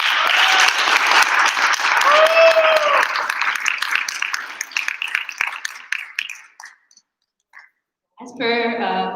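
Audience applause for a dancer after her Bharatanatyam arangetram, loud dense clapping that thins into scattered claps and fades to near silence, with a brief musical tone at the end.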